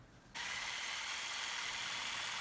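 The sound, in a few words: Sawzall reciprocating saw cutting cured aircrete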